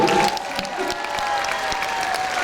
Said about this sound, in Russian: Так, поаплодируйте те, кто подпевал срочно